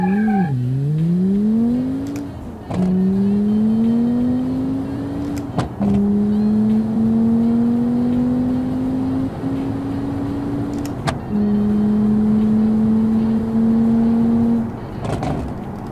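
The Altair TI5 accelerates through a quarter-mile run in the car game Automation, its engine note climbing and dropping back as it shifts through several gears, loud and steady with the odd sharp click between shifts.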